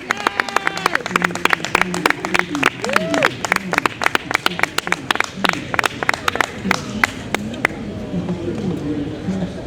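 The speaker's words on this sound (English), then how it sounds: "let's have a big round of applause to welcome Greg Masters, everybody" Audience at a New York City poetry festival reading applauds to welcome poet Greg Masters, a scattered, modest crowd of distinct sharp claps thinning out, with chatter and voices underneath.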